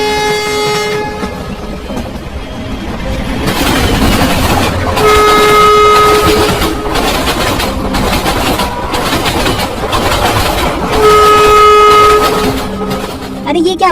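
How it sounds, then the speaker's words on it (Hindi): Cartoon passenger train pulling into a station, with a loud continuous rumble of wagons and two long two-tone horn blasts, under a narrator's voice and background music. "चूहापुर जाने वाली ट्रेन पनौतीपुर स्टेशन पे आ रही है"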